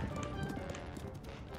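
A horse gallops in the video game The Legend of Zelda: Tears of the Kingdom, quick clip-clop hoofbeats running steadily under game background sound and faint talk.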